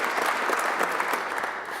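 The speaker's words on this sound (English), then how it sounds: "I'd ask people to give him a round of applause." Audience applause fills a room at a UConn team event, a steady dense clapping that runs throughout without a break.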